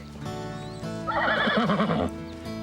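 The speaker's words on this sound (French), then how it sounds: "On ramène les chevaux." Horses neigh and whinny loudly at close range, a long wavering call rising over the clip-clop of hooves at a riding stable, with no talk.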